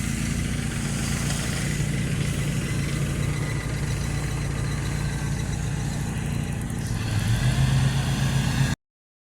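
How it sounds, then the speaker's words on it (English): A tractor engine idles with a steady, low continuous rumble, with a slight rise in pitch near the end before the sound abruptly cuts off. "he left the engine running on the tractor"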